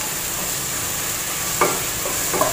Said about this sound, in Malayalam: ഇത് നന്നായിട്ട് ഇളക്കി കൊടുക്കാം